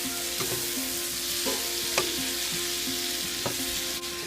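Shrimp stir-frying in a pan with garlic and beans makes a constant close sizzle, punctuated by periodic scraping and clacking of a utensil stirring at a roughly steady rhythm.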